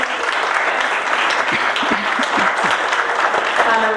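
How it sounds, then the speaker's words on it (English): An audience at a Democratic legislative leaders' townhall applauds loudly and steadily throughout, a dense wash of clapping with faint voices mixed in underneath. "I first just want to give an applause to Coconino County Dems for raising this fire"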